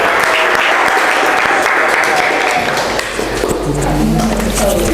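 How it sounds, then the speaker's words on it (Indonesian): A classroom group claps and cheers for group 5, a dense burst of applause that stays steady and loud, with a few voices mixed into the clatter of hands. "kita berikan aplaus ke kelompok 5"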